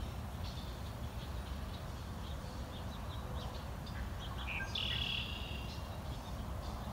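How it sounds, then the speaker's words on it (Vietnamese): Morning birds sing faintly in a garden of flowering red Weigela shrubs, scattered light chirps and a brief brighter whistle rising over a steady broadband outdoor hiss. "Buổi sáng quý vị nghe tiếng chim hót đó quý vị."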